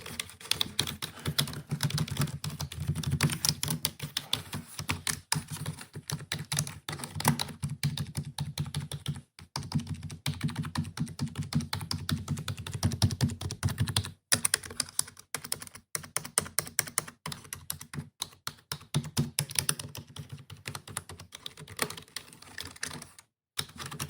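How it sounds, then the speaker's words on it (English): Continuous typing on a Dell mechanical keyboard, a steady stream of tight, close clicks with brief pauses, no talk. "nothing like the sound of mechanical keyboard, and the sound of the Dell keyboard"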